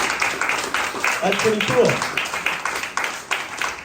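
Audience applause at a Santa Cruz city council campaign kickoff, scattered hand claps rising and falling in waves, with a person speaking briefly over it.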